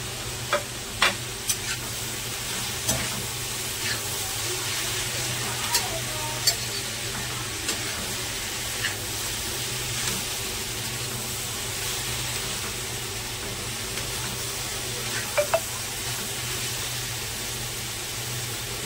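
Tomatoes frying in a pan while making matar paneer masala give a steady, dense sizzle throughout, with occasional clicks and taps of stirring over it and no talking.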